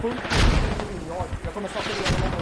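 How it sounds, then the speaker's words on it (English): Video game mortar fire, a run of heavy booms and blasts in quick succession, loud and close, with someone talking over them. "These mortars should be absolutely slaughtering them, systematically removing them from the east side of this flag"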